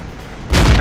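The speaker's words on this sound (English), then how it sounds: "Good shot into the top of the IS" A tank cannon fires in World of Tanks, a single loud broadband blast that hits halfway through, with its boom lingering to the end after a quiet stretch of faint background noise.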